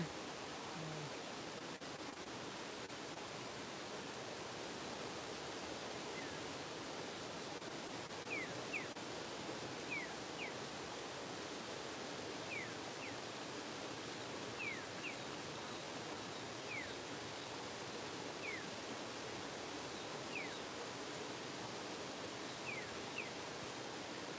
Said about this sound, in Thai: เสียงน้ำไหลบุนบุนอยู่พี่น้อง